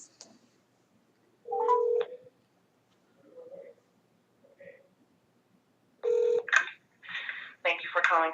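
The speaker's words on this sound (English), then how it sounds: "let's dial" A telephone keypad dials out, sending bursts of touch-tone beeps in separate clusters with short pauses between them, clear and fairly close, with no talking over them.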